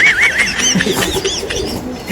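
Pigeons coo close by, soft rolling warbles repeating over a steady background of other bird calls.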